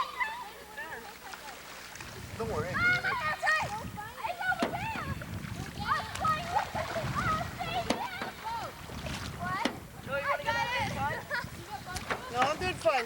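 Canoe paddled through water, with dip-and-pull strokes, drips and splashes recurring close by under frequent conversation and wind buffeting.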